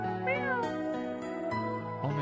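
A cat meows several times in a row, clear and close, each cry a wavering tonal call with shifting pitch and no other sound around it.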